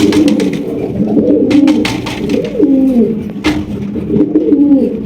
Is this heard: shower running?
no